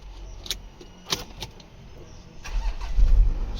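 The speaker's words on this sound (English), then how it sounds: "Starts the vehicle fine." Keys jingle a few times before a 2013 Porsche Panamera's engine cranks and catches, settling into a low rumble near the end; the sounds are close and moderate in level.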